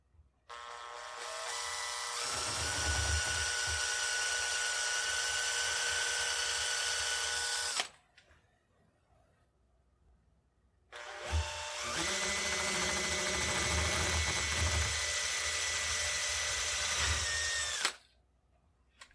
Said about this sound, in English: I'll start with an undersized drill bit